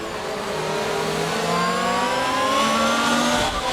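Race car engines in the F1 22 video game at the Dutch Grand Prix whine loudly and continuously, with pitch climbing through the gears in smooth accelerating sweeps and no talking.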